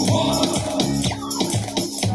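A remix plays loudly with a dense electronic mix of pulsing beats, synths and bass over a couple of seconds, with no one talking over it.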